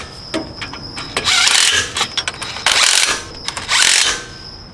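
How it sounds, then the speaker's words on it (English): An impact wrench on the carrier cap bolts of a Ford F250 Dana 60 axle, loud close rattling bursts repeating in quick pulses with brief gaps, one bolt after another, no speech. "Kind of hitting with an impact just to kind of get it to suck in a little bit more"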